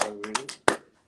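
A single person clapping by hand, a few quick claps followed by one sharp, louder clap, then silence.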